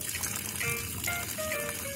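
A garden hose runs steadily outdoors in a garden while a cat drinks from the flow, giving a constant close rushing and gurgling of water.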